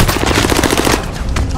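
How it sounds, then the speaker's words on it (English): Rapid automatic gunfire in a military shooter video game, a loud close burst of evenly spaced shots lasting under a second, followed by scattered heavier reports amid battle noise. "I'm under fire!"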